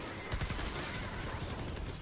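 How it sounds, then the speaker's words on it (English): Rapid bursts of gunfire in a video game, a dense run of shots fired fast and continuously at steady loudness, the booms stacking without any break in the barrage. "Why do I shoot so fast?"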